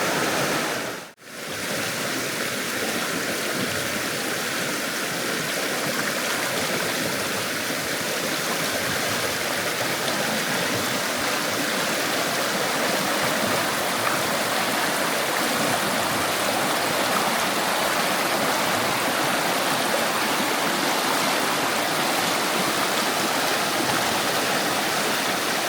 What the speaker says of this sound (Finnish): Komea joki se on. Tuommoinen koskimainen.